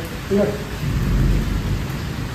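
Rain falls steadily while a low thunder rumble rolls through, with a brief voice near the start.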